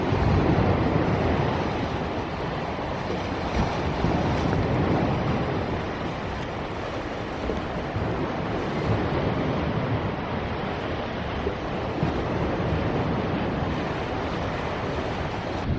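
Storm surf crashes and washes over a big rock offshore, a steady broadband roar of waves with gusting wind buffeting the microphone throughout, fairly close and continuous.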